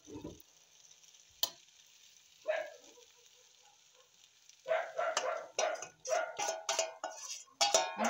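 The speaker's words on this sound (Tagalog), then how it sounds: "Ang ingay ng aso." A dog barks several times at a distance, first in scattered single yaps, then in a rapid string of sharp barks.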